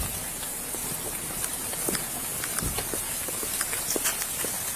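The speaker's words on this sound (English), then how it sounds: "since it's raining" Rain falling outdoors near a sidewalk during a police traffic stop, a soft steady hiss with scattered faint drops and taps, fairly quiet and continuous.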